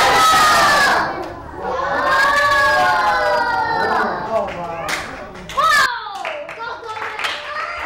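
An audience at a comedy juggling show, many of them children, shouts a word together loudly and in unison, then breaks into scattered cheers, chatter and clapping.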